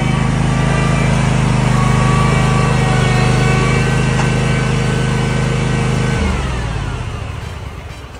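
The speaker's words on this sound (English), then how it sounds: "that's a pretty sweet lawnmower" A zero-turn riding lawn mower's engine runs at a steady loud drone close by, then winds down and fades toward the end.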